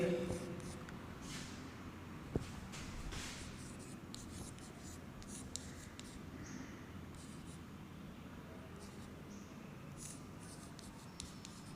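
Pen writing by hand during a 10th-grade science lesson, a soft continuous scratching and scribbling across the page at close range, with occasional small taps and background hiss.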